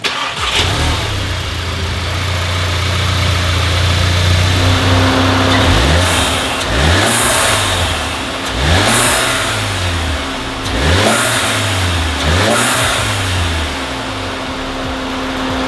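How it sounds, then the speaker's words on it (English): A stock turbocharged Volkswagen Mk7 GTI engine idles roughly, then revs up and drops back several times in a repeating pattern, loud and close. "that little engine sample, this is a totally stock engine"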